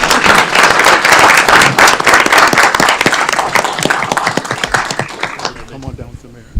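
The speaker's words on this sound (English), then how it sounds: "if we can please give a round of applause for Pastor Dallas Scott" Audience applause at a city council meeting, a dense burst of many hands clapping loudly for about five seconds before thinning and fading, with voices faintly mixed in.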